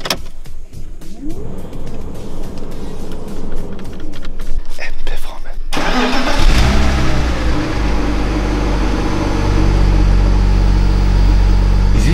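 Car engine starting partway through, settling into a loud, steady low idle rumble inside the cabin after earlier clicks and rustling.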